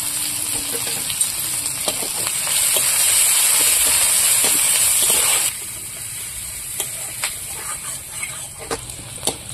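Chopped onions frying in oil in a kadai with cumin seeds, crushed garlic and slit green chilies, a loud steady hiss of sizzling that swells then drops, with scattered spoon taps and crackles throughout.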